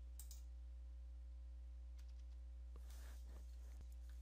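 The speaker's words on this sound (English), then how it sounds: "as your computer is starting up, you want to tap the F8 key repeatedly on your keyboard" Repeated taps on a single key of a computer keyboard during startup: a few faint, sparse clicks over a quiet, humming background.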